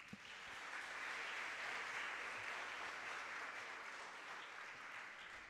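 Auditorium audience at a regional oratory competition in Bocas del Toro applauding a person standing to be recognized, a sustained even wash of clapping, distant and faint, with no talk.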